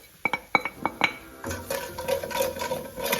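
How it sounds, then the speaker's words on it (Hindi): Whole spices, roasted cumin, crushed coriander seed, a pinch of ajwain and salt being sautéed in a pan for aloo rolls: a few sharp metal clinks of a spoon on the pan, then a steady soft sizzle with light stirring scrapes, close and alone. "तो थोड़ी सी हम इसी तरह इसकी जो है इसको सौते करेंगे।"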